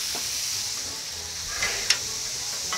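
Sirloin steak and shrimp sizzle steadily on a Blackstone griddle with a tequila lime seasoning, a soft continuous hiss broken by a few brief spatters and pops near the end.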